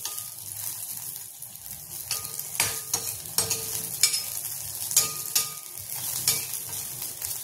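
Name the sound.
green chillies frying in a pan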